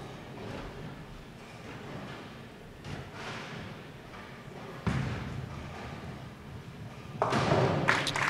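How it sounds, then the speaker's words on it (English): Bowling ball rolled at the remaining pins for a spare during a professional women's bowling stepladder final, with a low rumbling roll and a crashing impact near the end over steady arena ambience. "She wastes no time to shoot the spare."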